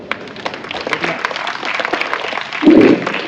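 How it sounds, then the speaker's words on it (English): An audience claps at a children's storytelling session at a Hyderabad literary festival: a steady patter of many hands that swells into a louder, denser burst near the end, with no voices over it. "You can clap even louder now."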